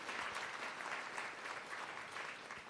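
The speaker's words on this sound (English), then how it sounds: "A round of applause for Emma." Conference audience applause for Emma: an even, continuous crowd clapping, soft and somewhat distant, lasting the whole few seconds without a break.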